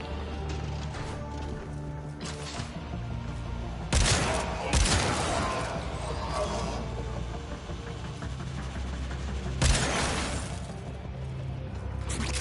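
Suppressed weapons firing in the video game Warframe. Several punchy shots crack out around 4, 4.8 and 9.8 seconds, loud against a busy, continuous game background of mechanical rumble and effects.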